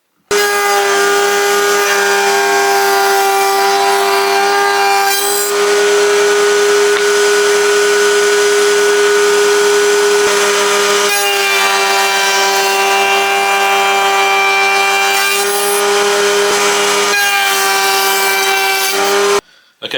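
Woodworking router on a router table cutting mortise housings in rough-sawn planks for a National beehive, a loud steady high-pitched whine with small shifts in tone as the cut progresses, running alone for nearly twenty seconds.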